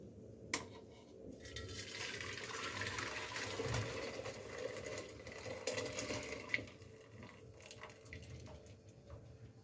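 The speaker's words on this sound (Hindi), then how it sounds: "एक और पैन लेंगे, इसे उसमें छान लेंगे।" Fennel and cardamom water being strained from one pan into another while making lemon squash, a steady watery trickle and pour that runs for several seconds close by, with light kitchen clatter and no talk.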